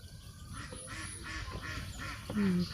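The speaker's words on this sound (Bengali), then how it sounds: "এখানে অনেকগুলো হাঁস।" A flock of ducks on the water by a hijal tree gives a series of nasal quacks and honks, moderately near, over steady outdoor background noise.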